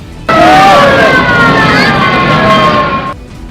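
Several fire engines arrive at a blaze with wailing sirens, loud and close, rising and falling in overlapping tones for most of the stretch before fading at the end.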